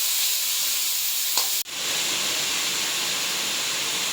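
Gooseberries sauté in a hot pan for nellika rice, giving a loud, continuous sizzle with a brief clatter and a momentary drop in the hiss partway through, close up and without talk.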